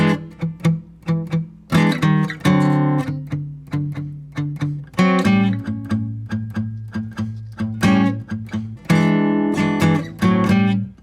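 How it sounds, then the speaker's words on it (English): An acoustic guitar plays a short blues turnaround of plucked chords and single-note runs, with bursts of strumming between quieter picked phrases. "so I'm just going to play through the last 4 bars of the first chorus real quick."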